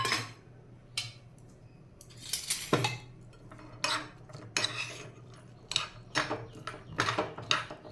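Cashews, pistachios and almonds roasting in ghee in a pan, heard as repeated metallic scrapes and clinks of a spoon stirring against the pan, in irregular bursts close by.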